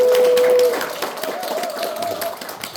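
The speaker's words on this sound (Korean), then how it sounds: "박수 한번 주십시오" An audience at a political rally in Cheongju breaks into applause, a dense patter of clapping hands following a brief steady tone at the start, moderately loud and fading slightly toward the end.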